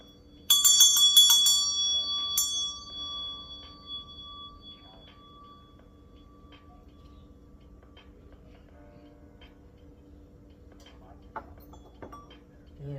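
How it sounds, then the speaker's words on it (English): A meditation bell is struck once. Its bright ringing tone starts loud and close, then decays slowly over several seconds into a quiet room with faint background hum. "I'm going to ring my meditation bell."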